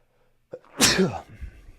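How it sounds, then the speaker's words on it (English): One close, sharp sneeze bursts out of near silence after a brief intake of breath, then fades quickly. "I gotta sneeze"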